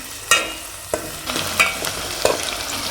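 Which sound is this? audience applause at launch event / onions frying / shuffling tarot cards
onions frying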